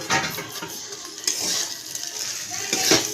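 A spoon scraping and stirring okra into frying shrimp masala in a pan, close and fairly loud, with uneven metallic scrapes over a light sizzle.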